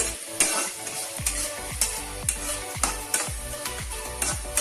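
Tempering spices frying in hot oil for kanda bachali (yam and greens) curry: a steady close sizzle broken by regular stirring scrapes about twice a second, with no talking.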